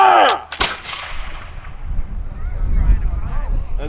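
A flintlock musket fires at a militia drill day, one sharp loud close blast at the start with a second crack just after, then a long rumbling echo that fades out.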